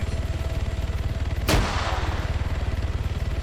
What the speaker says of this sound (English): Settler dodging shots from Major Khan. Returns fire, that is a 1911.